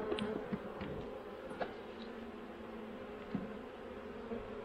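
Honeybees buzzing around an open hive during a robbing frenzy, a faint continuous droning hum with a few soft close bumps and clicks, no talking.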